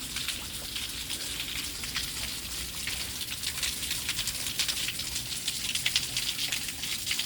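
Water spraying off rock and splashing down into a pool at Starved Rock, a steady hissing, pattering wash like rain with no break, moderately close and alone, with no talk.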